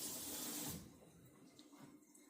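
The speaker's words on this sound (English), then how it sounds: "Wash my hand out." Tap water runs over a hand being rinsed in a kitchen sink during sourdough baking, a steady broadband hiss loudest for the first moment, then continuing softer.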